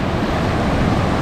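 Big, violent ocean waves break on a Basque or Cantabrian shore, a loud, continuous roar of surf mixed with wind noise, with no voices.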